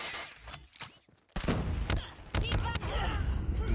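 A sentry gun in Call of Duty Mobile battle royale fires bursts of thudding shots among other game noises, with a voice talking over the action.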